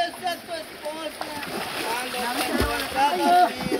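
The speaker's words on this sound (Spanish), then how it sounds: "¡Échale agua, Mincho!" Water splashing and sloshing as people wade and bathe outdoors in a cold, stony stream, with irregular splashes through the clip under loud excited voices and shouting.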